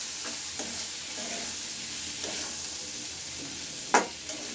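Prawns with spring onion greens fry in a pan, a steady soft sizzle with occasional scrapes and light knocks of a spatula as they are stirred, one louder clack near the end, no talking.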